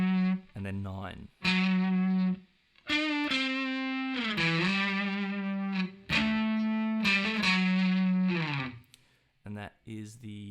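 Distorted electric guitar plays a lead line for the bridge of a song, sustained bent notes and short stabs with effects, alone in a phrase of several held notes and gaps, fairly loud and close.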